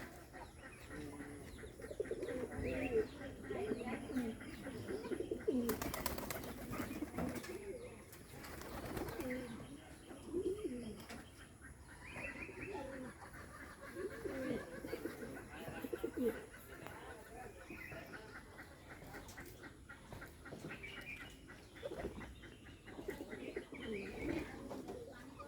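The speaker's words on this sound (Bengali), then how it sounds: "আর কবুতরগুলো অনেক সুন্দর ডাকে" Bombay pigeons coo again and again from a loft, soft rolling calls layered over one another with occasional clucking and a voice speaking at times.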